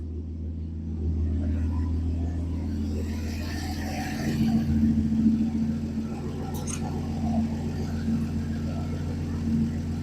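A Dart car engine running just after starting, on fast idle with a steady low rumble. It swells briefly partway through and has some faint clatter over it.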